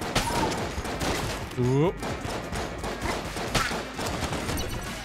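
Rapid burst of explosions from a pile of grenades going off in Enter the Gungeon, loud dense thumps and crackle filling the moment, with a player exclaiming over the chaos and game chirps mixed in.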